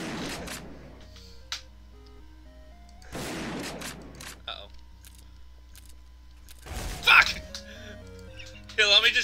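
Video game gunshots fired into a wall come as three separate sharp bursts spaced a few seconds apart, each followed by short clattering tails, with voices talking in between.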